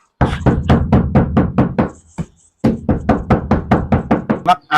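A steady run of hollow knocks on the padded ceiling panel of a Hyundai Stargazer, about a dozen evenly spaced taps, a brief pause, then another fast series, close and fairly loud.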